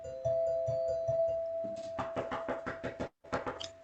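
Sharp knocks rap on a front door as a radio show sound effect, a few spaced raps and then a faster run over a steady tone. The knocks sound close and fairly quiet.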